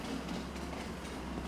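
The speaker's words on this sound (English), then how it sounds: "Oh, there goes the train again." On a farm in Ray County, a train rolls past at a distance, a faint, steady rumble with soft rhythmic clatter.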